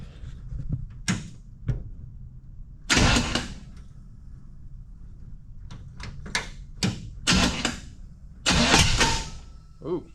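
A 1937 Ford engine cranks and tries to start with a suspected timing fault, heard as bursts of starter and engine noise between quieter gaps, fairly close, with a person talking in between.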